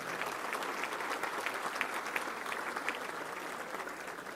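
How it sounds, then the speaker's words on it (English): An audience applauds at a Little Rock Touchdown Club meeting, honouring a man turning 88. The clapping is steady, dense and moderately loud, filling the whole stretch without a break. "Let's give him a round of applause."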